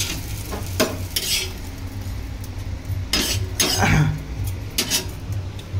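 An egg-coated bread slice frying on a hot griddle: a low, soft sizzle broken by several sharp scraping and clinking bursts from a utensil against the pan.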